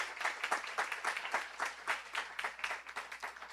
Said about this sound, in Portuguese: Palmas para o Luiz Gama.